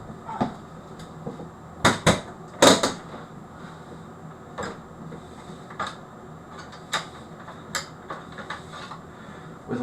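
Hands rummage through a metal telecom toolbox in search of a screwdriver, producing irregular clanks, rattles and sharp knocks of tools shifting against each other. A few louder bangs stand out from quieter shuffling.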